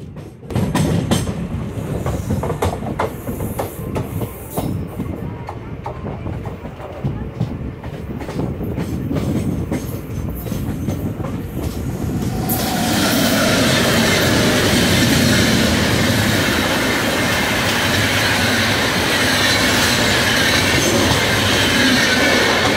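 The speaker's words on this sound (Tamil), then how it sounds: "சபர்பன் ட்ரெயின் ட்ராக்குக்கு சேஞ்ச் ஆகுதுங்க" Express train crossing over onto the suburban track near Tiruvalangadu, with rumbling wagons, wheel clatter and a surge to a loud, dense roar of wheels and rails partway through, heard from on board.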